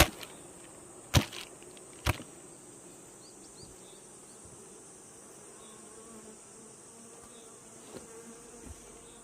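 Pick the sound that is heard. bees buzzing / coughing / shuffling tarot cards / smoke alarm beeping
bees buzzing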